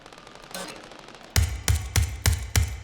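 Beryl 762 assault rifle in the video game World War 3, firing four or five loud, sharp shots in a quick, evenly spaced burst after a quieter lead-in, close and with no talking.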